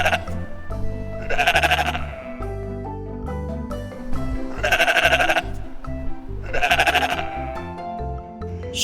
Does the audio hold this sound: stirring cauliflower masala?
no